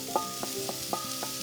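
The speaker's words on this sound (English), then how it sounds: "We're going to start sauteing off" Chopped onion and celery sauteing in a pan with a generous splash of olive oil, giving a steady soft sizzle with a few light stirring knocks over it.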